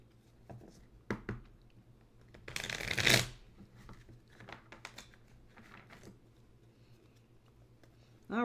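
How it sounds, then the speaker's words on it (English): A deck of tarot cards being shuffled in a quick riffle, a loud crisp burst in the middle with lighter card taps and handling before and after, close by. "The card shuffle sound is so satisfying."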